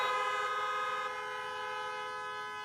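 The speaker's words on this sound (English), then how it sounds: "If you heard that, give me a honk." A steady car horn honks in one sustained blast that fades slightly, with a hint of other horns in the background.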